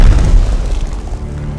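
Naval guns fire in the Pacific strategy game Strategic Mind: The Pacific, during a Coral Sea battle: a heavy, loud low boom rolls into a sustained deep rumble with no voices.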